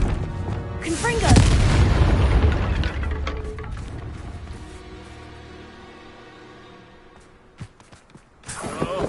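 The Confringo explosive spell in the Hogwarts Legacy video game: a heavy booming blast early on that rumbles and slowly fades, followed by a few small pops and a fresh burst near the end.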